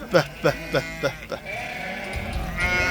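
Several lambs bleat in quick succession, four or five short cries close by, followed by a steadier background of animal noise.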